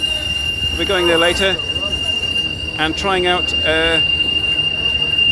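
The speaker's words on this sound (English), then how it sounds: "Excuse the noise of the tram." A tram passes through a street in Ghent, its wheels giving several loud, high, wavering squeals in bursts under a constant city rumble, while someone talks close by.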